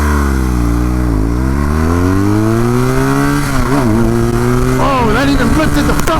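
A BMW R 1200 GS Adventure motorcycle accelerates hard through the gears, its engine note climbing steadily, dropping at each shift and rising again, loud and close under a rider's voice and wind.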